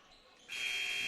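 The game-ending buzzer at a men's college basketball game, a single sharp, loud electronic tone that cuts in abruptly halfway through and holds steadily over faint gym ambience.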